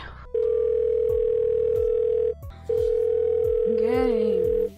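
A phone ringing tone in the game 1st Degree, two long steady tones separated by a short gap, loud and close, with a faint voice near the end.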